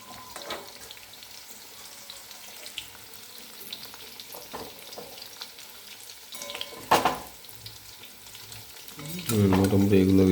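Chicken pakoras frying in hot oil: a fine, steady sizzle with scattered clinks and stirring knocks, then a louder, denser burst of crackling toward the end, heard up close with no talk.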